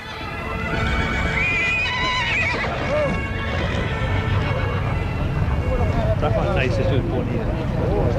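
Horses neigh and whinny in the Irish countryside while their hooves clip-clop steadily, and someone talks over the sounds throughout.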